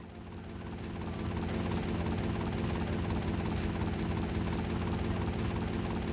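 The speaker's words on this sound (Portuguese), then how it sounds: "Pegar um helicóptero aqui." Helicopter in GTA Vice City Stories on PS2, a steady loud rotor and engine drone that swells over the first second and then holds constant, with no talk.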